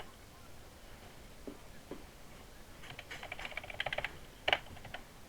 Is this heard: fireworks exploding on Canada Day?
no